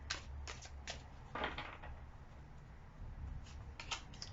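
Tarot cards are shuffled in quick, dry riffling bursts, some short and some longer, close and fairly quiet with no talking.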